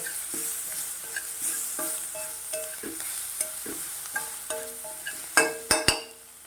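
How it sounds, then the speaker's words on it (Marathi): Turmeric and kitchen king masala fry in hot tempering oil, a steady close sizzle with repeated stirring scrapes of a spoon against the pan and a few sharp metallic clinks near the end. "अर्धा चमचा आपण हळद घेतलेली आहे आणि अर्धा चमचा आपण किचन किंग मसाला हे आपण एक मिनिटभर असं परतून घेऊया"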